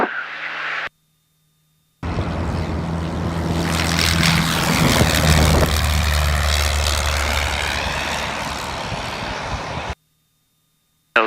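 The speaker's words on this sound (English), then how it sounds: "I am flying an airplane by myself" A small propeller airplane climbs after takeoff from John Wayne Airport on a first solo flight. Its steady engine and propeller drone sits loud and close, with wind rush building over several seconds. The drone cuts off abruptly at the end.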